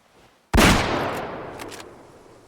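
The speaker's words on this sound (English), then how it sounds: "just one more gunshot so you can get the comparison again" A single loud gunshot in the video game Way of the Hunter cracks sharply, then a long reverberant tail fades slowly over about two seconds, with faint clicks and rustling footsteps near the end.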